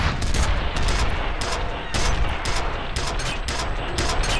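Rapid gunfire in the shooter F.E.A.R., dense bursts of loud shots repeating across the whole stretch, close and unbroken with brief gaps between volleys.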